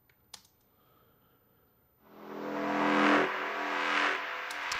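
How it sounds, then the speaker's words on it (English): A transitional tonal sample lifted from an electronic track, swelling in after a quiet opening into a broad, washy tone smeared with heavy echo and reverb, holding loud and sustained to the end. "There's also these transitional tonal elements, which I've sampled from the original track, with lots of echo as well as reverb."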